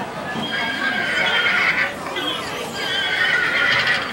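A horse neighs at the Legoland joust ride, a loud drawn-out whinny over a busy background of clip-clop hooves and crowd noise.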